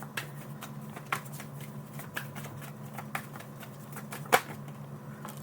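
Tarot cards being shuffled: a quiet, steady papery riffle and slide with soft periodic flicks and one sharper snap near the end, close by over a low hum.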